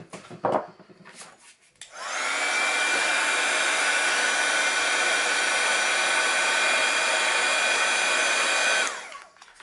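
A hair dryer blows steadily on watercolor paint to dry the first layer before a second coat, switching on with a sharp rise, roaring evenly for about seven seconds at close range, then cutting off.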